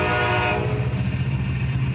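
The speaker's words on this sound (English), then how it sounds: "as the train is about to arrive" A train rolls past loudly with a sustained horn blast and a steady low rumble of wheels, close by.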